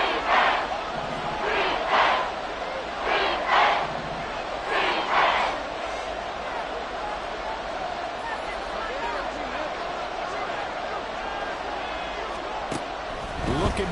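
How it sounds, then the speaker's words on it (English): A roaring indoor dome stadium crowd in Madden 24 football swells in rhythmic chanting surges, then settles into a steady, loud roar with a sharp thump near the end, under a voice talking throughout. "The crowd here in the Dome making things difficult."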